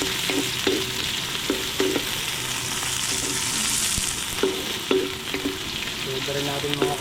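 Onions sauté in a pan with a close, steady sizzle broken by clattering utensil stirs and scrapes against the metal, with no talking.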